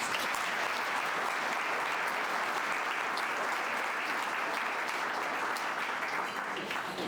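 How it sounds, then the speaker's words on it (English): Audience applauding at a Ramadan iftar dinner, dense sustained clapping from a large crowd filling the room at steady loudness throughout. "Please join me in giving a warm round of applause to all the wonderful women gathered here tonight."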